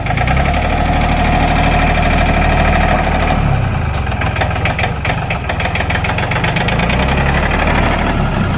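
A Yanmar 39 hp tractor engine runs close and loud, with a steady, throbbing diesel chug and knocking rhythm that shifts slightly in pitch midway and never lets up.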